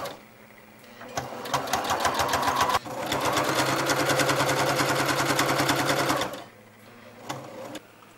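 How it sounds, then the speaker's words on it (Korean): Sewing machine stitching fabric pages for tactile books, with a fast, even mechanical clatter that runs for about five seconds, stops briefly, then resumes, all close and fairly loud. "지금 바로 미싱 작업에 들어가시는 것 같은데"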